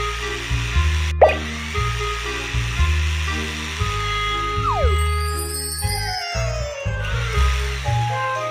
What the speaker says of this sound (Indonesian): Ayo kita gergaji papan tempat tidur.